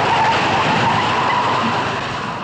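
A hearse skids through a turn, its tires squealing in a loud, steady hiss over engine noise that fades slightly toward the end, with no voices.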